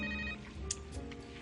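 A telephone rings with a short electronic ringtone burst, fairly faint in a room, and no one speaks over it.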